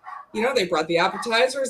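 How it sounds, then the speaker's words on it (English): Dogs bark and yip excitedly somewhere in the background of a home, breaking in intermittently beneath close, steady conversational speech. "Sorry if you can hear the dogs losing their mind in the"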